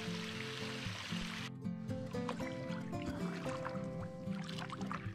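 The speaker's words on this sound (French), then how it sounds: "Une toute petite cascade, un ruissellement." A very small waterfall trickles and runs into Lac de Vouglans after recent rain, a steady close liquid splashing with scattered drips, a loud wideband wash giving way to clearer droplet sounds.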